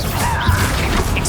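Bombarda blasting spell cast in Hogwarts Legacy, a short, loud crashing burst with a whooshing edge that fills the moment and fades out quickly.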